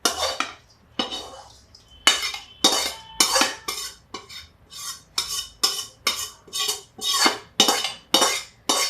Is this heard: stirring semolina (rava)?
yes